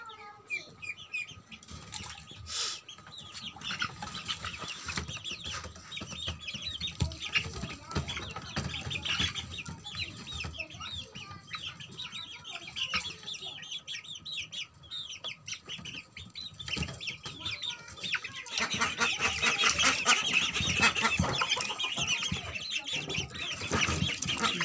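A hen raising duckling chicks clucks softly while the young ones chirp and peep constantly nearby. Wings flap now and then, and the chirping grows busier and louder toward the end.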